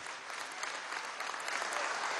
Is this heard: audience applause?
yes